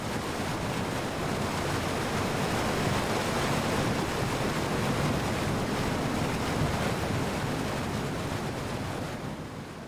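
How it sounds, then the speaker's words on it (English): Germany's highest waterfall in the Watzmann national park drops almost 400 meters, its foaming water giving a dense, constant roar that stays loud and unbroken and fades slightly only at the very end. "the foaming water masses of Germany's highest waterfall"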